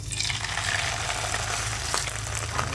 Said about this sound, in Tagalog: Iprito na natin yung boneless bangus.